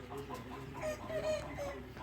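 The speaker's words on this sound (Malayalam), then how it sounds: "ഇത് ചെറിയ സൈസ് കോഴികളാണ്" Small-sized hens on a large poultry farm in Maharashtra cluck and call close by, with a few sharper squawks and faint background talk.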